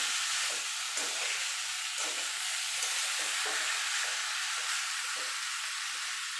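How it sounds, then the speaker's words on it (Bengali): Taro stolons (kochur loti) stir-fry with spices in a pan, giving a steady, close hiss and sizzle with faint scraping stirs throughout, no voices. "আর দিয়ে দেবো কচুর লসিটা দিয়ে ভালো করে একসঙ্গে সব কষিয়ে নেবো যাতে সব কিছুর মতো মশলাটা ঢুকে যেতে পারে"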